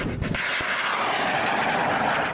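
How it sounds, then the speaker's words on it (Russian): Military reconnaissance drones fly overhead above a training ground, giving a steady, loud, broadband engine roar that holds for the whole stretch, with a couple of brief thumps near the start and no talking. "пока дроны вели разведку с воздуха"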